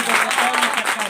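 An audience applauds after a Teachers' Day speech with a short burst of dense clapping, and a voice can be heard over it.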